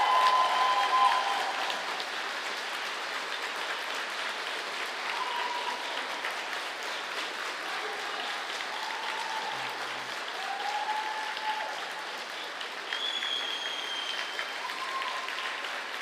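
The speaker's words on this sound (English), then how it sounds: "please reward them with a strong, reasonable applause for the big thank you" Graduates at the UNYP 2017 graduation ceremony applaud their guests in a long, even roar of clapping from a large hall audience, steady for the whole stretch with faint voices in the background.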